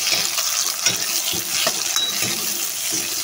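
Sukuti, dried fish, frying in pure homemade mustard oil makes a steady, close, dense sizzle, with low stirring scrapes and soft knocks pulsing underneath.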